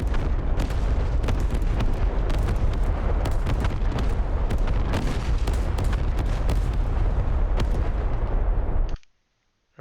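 An artillery battery fires again and again in a military video game, loud booming shots piling into a dense, continuous barrage that runs without a break and then stops abruptly near the end.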